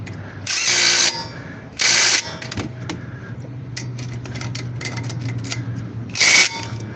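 An impact gun tightens bolts on the front brakes of a 2010 GMC Acadia, firing three loud, close bursts of about a second each, with quieter shop clatter and handling between them.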